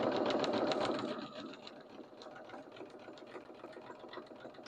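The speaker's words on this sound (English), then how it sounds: "I'm just going to go over this opening with a zigzag stitch" A sewing machine runs a zigzag stitch along the opening of a jeans waistband, starting with a loud, fast whir for about a second, then settling into a quieter, steady rhythmic hum that continues to the end.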